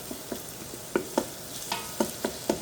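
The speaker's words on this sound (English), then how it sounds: "we're just going to saute this for a couple of minutes" Sautéing in olive oil and butter for a corn and green chili bisque: a soft sizzle runs underneath as a utensil stirs and scrapes the pot in a series of sharp, evenly spaced knocks, with no talking.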